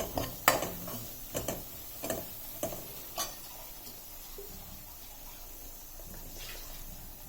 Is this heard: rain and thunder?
no